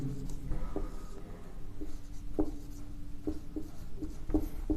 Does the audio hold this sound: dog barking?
no